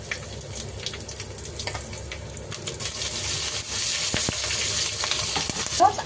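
A big fish head fries in hot oil, a dense close sizzle with sharp crackles and pops that grow louder and busier toward the end, with no voices.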